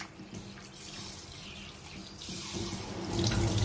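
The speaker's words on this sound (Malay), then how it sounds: "3 kali kita basuh, rendam dalam 30 minit." Urad dal being rinsed under a running kitchen tap, a steady close rush of water into a sink that grows louder toward the end, with no talking.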